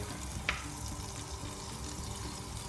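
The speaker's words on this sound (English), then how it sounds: "my pot is getting warm, so I put a little bit butter" Butter melting and sizzling in a warming pot, a steady soft frying hiss with one small clink near the start, no voices.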